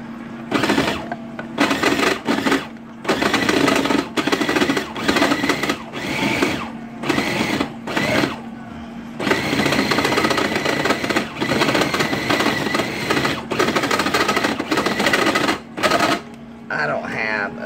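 A small food processor grinds a wild boar sausage ball mixture with loud, close bursts separated by short pauses, then settles into a longer continuous run.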